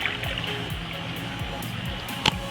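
Water sloshing and splashing in a hotel swimming pool in Ayutthaya: a steady, soft wash of moving water with small intermittent splashes and one sharper splash near the end.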